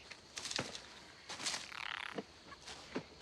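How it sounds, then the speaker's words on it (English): A tree frog croaks in short, repeated rasping bursts against a quiet night background, the calls close and fairly clear with brief gaps between them. "Dude, it's just a tree frog."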